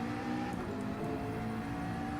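Race car engine in the Gran Turismo 7 racing game holding a high, steady whine with slight rev fluctuations, a continuous loud drone with no talk.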